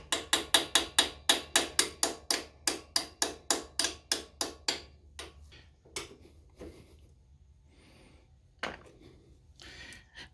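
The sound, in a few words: tapping a part loose on Harley Davidson Fatboy floorboards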